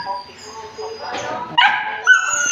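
Pet dogs yipping, whimpering and barking eagerly at feeding time, a quick run of excited high cries and short barks close by, with a person talking over them.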